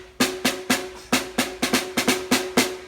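Snare drum with the snare wires engaged, about a dozen crisp buzzy strokes in a steady rhythm, each with a bright rattling wash, close and fairly loud.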